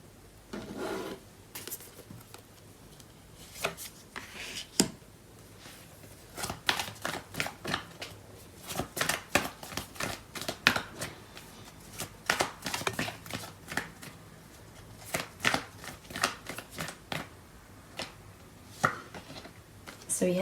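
Tarot cards are shuffled by hand in repeated bursts of riffling and sliding, soft papery rasps and taps coming close and intermittent, with quiet pauses between handfuls and no talking.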